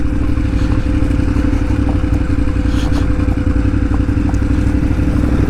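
A motorcycle labours up a hill, its engine a loud, steady, rough drone with some clatter, close by and unbroken throughout.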